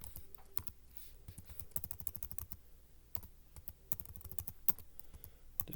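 Steady, fairly quiet clacking of keys on a computer keyboard, with rapid irregular keystrokes continuing throughout and no talking.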